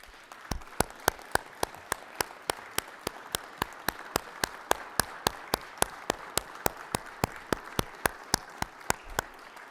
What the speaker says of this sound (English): let's give them a round of applause and a welcome to our Senate body.